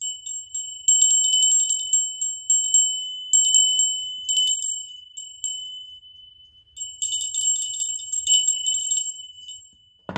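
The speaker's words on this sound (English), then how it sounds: "Let's ring the bell." A small hand bell rings in a series of bright metallic strikes, each tinkling note decaying before the next, uneven in rhythm with a longer jangling flurry near the end, close and alone without talk.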